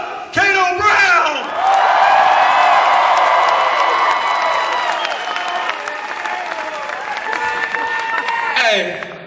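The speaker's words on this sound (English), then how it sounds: "if you'll give them a round of applause each time" A stadium crowd at a Camellia Bowl marching band performance breaks into loud sustained applause and cheering with whoops, rising quickly and holding for several seconds before fading, with voices mixed in.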